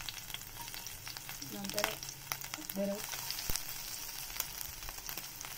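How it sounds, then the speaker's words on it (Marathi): Garlic fries in hot oil with a steady close sizzle and crackle, a few clinks of a utensil against the pan, and a short bit of speech over it. "ऑइल आता गरम झालं, लसूण टाकला याच्यामध्ये."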